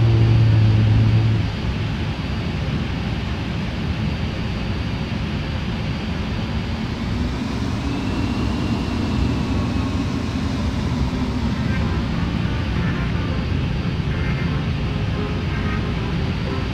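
A simulated MD-11 airliner taxis after a night landing at KLAS in Flight Simulator 9, giving a steady, loud broadband jet rumble and hiss that holds level for the whole stretch.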